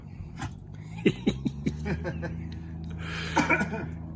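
A dog out in a vegetable garden gives a run of short whimpering yips and snuffles close by, while someone talks alongside it.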